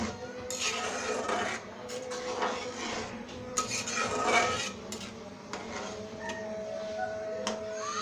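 A ladle stirs thick masoor dal with chopped coriander leaves in a metal cooking pot, repeated scraping and clinking against the pot sides in uneven strokes, fairly close.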